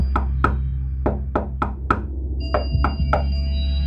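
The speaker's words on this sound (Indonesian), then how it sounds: "Jadi di luar ada yang mengetuk-ketuk pintu gitu." Sharp knocks on a door in irregular clusters, close and loud over a low steady hum, with a ringing tone coming in partway through.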